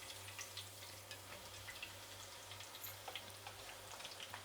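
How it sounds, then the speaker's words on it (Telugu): Crushed garlic cloves, still in their skins, fry in hot oil while a crunchy snack mixture is made. A faint, steady sizzle with tiny scattered pops carries on without any voices. "ఇప్పుడు ఇది కూడా వేయించేద్దాము"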